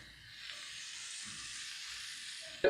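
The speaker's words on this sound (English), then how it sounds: "these have been searing for 2 minutes on one side" Steaks sear in a hot pan with a steady, close hiss of fat that runs unbroken, ending in a brief clunk as a piece is moved.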